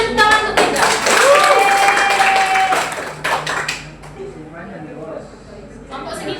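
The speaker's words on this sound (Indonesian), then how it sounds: "Beri tepuk tangan untuk Raiga" An elementary school class claps for a pupil in a short burst of hands that fades after a few seconds, mixed with children's voices and sung or chanted tones.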